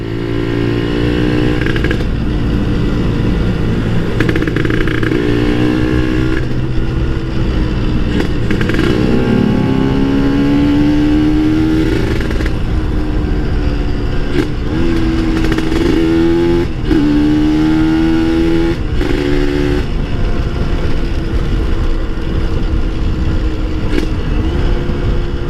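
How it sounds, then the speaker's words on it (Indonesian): A two-stroke Kawasaki Ninja motorcycle engine revs hard and continuously uphill, loud and close, pitch rising and falling with downshifts and engine braking as it climbs. "Kalian dengerin suara motor gua ya."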